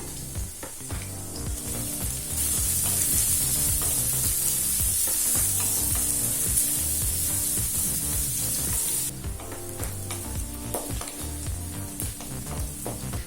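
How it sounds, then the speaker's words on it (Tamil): Two large chopped onions fry loudly in oil with a constant hiss, punctuated by repeated stirring and scraping against the pan; no voices. "இப்போ வெங்காயம் நல்லா வதங்கிடுச்சுங்க."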